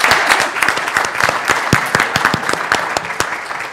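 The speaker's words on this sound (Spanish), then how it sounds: "Les damos un aplauso a todos los ponentes." Audience applause for the speakers at an administrative law conference, a lively burst of many hands clapping with distinct nearby claps over a fuller crowd, loud and continuous with no speech.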